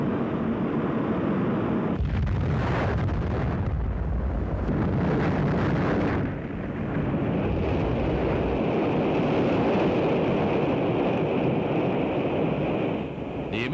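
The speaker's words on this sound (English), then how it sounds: "The immediate cause of the explosion is not known" Atlas-Centaur rocket exploding shortly after launch: a continuous loud roaring rumble with a burst of heavier blast noise partway through, then a steady thundering roar, distant and unaccompanied by talk.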